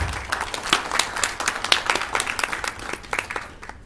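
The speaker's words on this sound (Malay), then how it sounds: "Berikan tepukan gemuruh sekali lagi." An audience claps at a formal Selangor ceremony marking an agreement between a company and the Selangor housing and property board. Dense, steady applause of many hands lasts throughout before thinning out at the very end.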